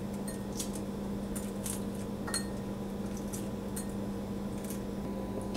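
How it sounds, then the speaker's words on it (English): Boiled eggs being peeled by hand in a home kitchen, with soft crackling taps and small scattered clicks of shell against a steady background hum and no talk. "I need to peel my eggs."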